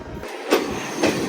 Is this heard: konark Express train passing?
yes